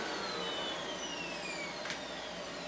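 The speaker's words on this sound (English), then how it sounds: "I've got my vacuum cleaner right here" A vacuum cleaner powered from a Growatt portable power station whines steadily, with a constant motor hum and a brief rising tone near the end.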